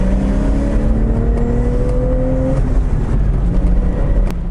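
A first-generation Porsche Boxster with its 2.5-litre flat-six accelerates hard, its engine note climbing steadily in pitch through a gear before dropping at a shift, loud and close with no talking.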